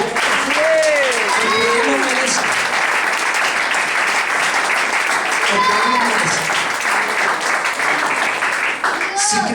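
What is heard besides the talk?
applause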